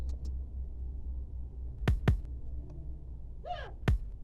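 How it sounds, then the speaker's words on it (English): A few deep Afro Pop kick drum thumps play alone with reverb, gaps between them, two close together, then a softer swishing accent and one final thump. "let's just play the kick drum alone."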